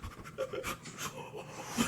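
Heavy, panting breaths come in a steady run of soft, breathy bursts, fairly close and audible on their own without any talk.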